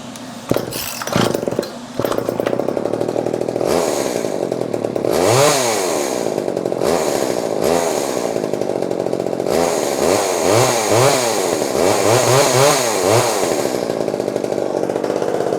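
Old two-stroke chainsaw engine, just repaired after years unused, running loud and close, idling then revved repeatedly in rising and falling bursts after a few sharp starting knocks.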